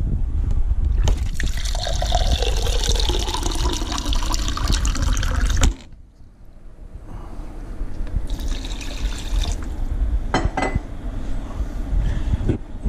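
Water is poured into a pot of crawfish étouffée, making a loud, rushing pour for several seconds. A sudden drop follows, then quieter splashing and trickling resumes near the pot.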